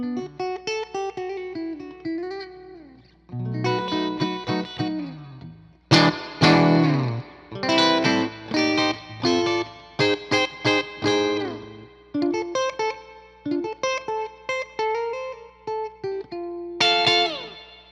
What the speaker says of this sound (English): Telly bridge pickup type of sound, real clean.